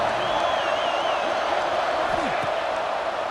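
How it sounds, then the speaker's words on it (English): Stadium crowd noise in the EA Sports College Football 26 video game, a steady loud roar of cheering fans swelling over a big third-down play, with a commentator's voice running over it throughout. "if you didn't know this was a big play, the crowd is telling you"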